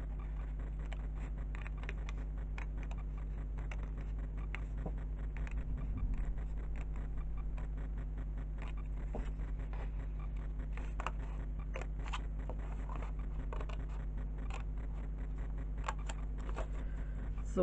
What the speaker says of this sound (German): Und schneid mit euch erstmal hier die Schablone aus, beziehungsweise die Tüte.